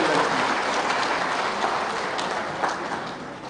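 A rally crowd in Ranchi claps and cheers in a dense, sustained wash of applause that tapers off slightly toward the end.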